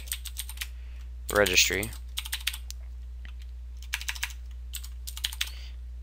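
Typing code on a computer keyboard, with quick clusters of light close keystrokes separated by pauses and a brief spoken word near the start of the typing.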